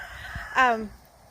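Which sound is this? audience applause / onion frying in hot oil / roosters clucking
roosters clucking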